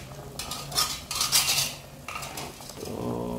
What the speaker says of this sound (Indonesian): Diaduk-aduk sebentar